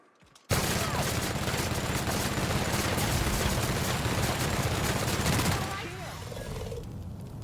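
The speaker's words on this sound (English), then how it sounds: "I can kill these things with just one mag of my... a light machine gun." Sustained automatic fire from a light machine gun in The Outer Worlds, a dense, loud, unbroken burst of rapid shots lasting several seconds before cutting off into a lower rumble.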